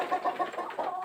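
Domestic hens clucking at feeding time, a quick run of close, bright clucks in a short rhythmic burst with no voices.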